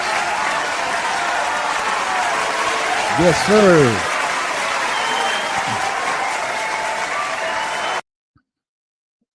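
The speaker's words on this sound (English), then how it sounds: "Let's give a round of applause for all the Lakers fans, please." A crowd of Lakers fans claps and cheers steadily, loud and continuous, at a jersey retirement event, with a brief voice rising above it before it cuts off abruptly.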